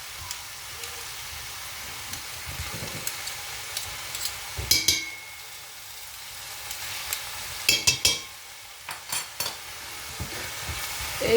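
Food being stirred in a pot with a spoonful of clarified butter for Algerian chakhchoukha, giving soft scraping and scattered clinks over a faint sizzle, with a few louder knocks near the middle and the end.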